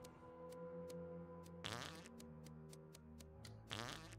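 In the video game Goose Goose Duck, two loud, squelchy fart sound effects burst out, one near the middle and one toward the end, over a quiet game background of soft tones and repeated clicking ticks.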